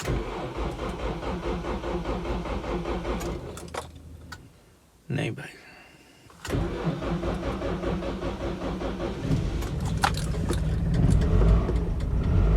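Car engine starting after a battery check: jangling keys and mechanical clatter, a brief pause, then the engine catches and settles into a steady mid-pitched running drone, with someone talking over it.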